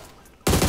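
Burst of automatic gunfire in PUBG Mobile erupting suddenly after a quiet moment, loud, dense and sustained through the end.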